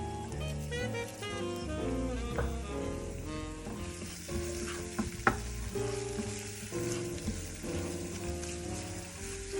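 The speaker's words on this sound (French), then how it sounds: "Voilà, les tomates cuisent doucement avec l'échalote." Tomatoes with shallot, salted and peppered, cook gently over very low heat in a pan, giving a soft continuous sizzle with stirring and scraping noises and occasional clinks of a utensil, without speech.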